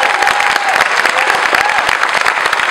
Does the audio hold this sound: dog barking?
no